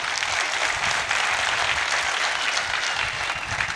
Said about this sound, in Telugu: లయన్స్ క్లబ్ పెద్దలకు ఒక్కసారి గట్టిగా చప్పట్లు ప్లీజ్